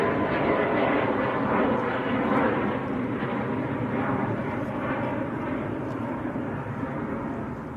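A Boeing 737 MAX rolls for takeoff at Manchester Airport, producing a dense, continuous engine roar that stays loud and even before easing slightly near the end, with no talking.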